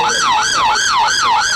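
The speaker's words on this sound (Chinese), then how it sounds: "警报声马上就会响起" An alarm on an AI anti-fraud ATM sounds loud and close, a steady wailing siren that sweeps up and down about every third of a second without pause.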